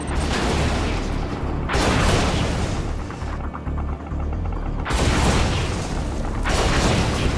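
Heavy gunship rotors spinning up in Command and Conquer 3: Tiberium Wars, a loud, steady mechanical roar and hum with booming surges swelling and dropping back over several seconds, no voices.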